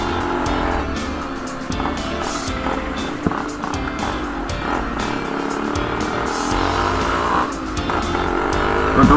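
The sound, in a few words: Yamaha RX135 motorcycle engine revving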